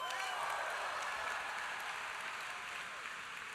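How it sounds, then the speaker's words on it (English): A leadership academy audience applauds in a dense, steady wash of clapping that holds at a moderate, somewhat distant level throughout. "Give yourself a round of applause."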